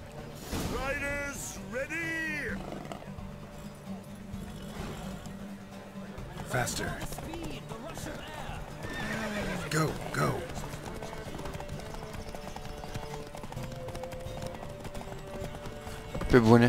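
In The Witcher 3, a horse gallops in a race with steady rapid hoofbeats and a whinny, while voices talk over the action.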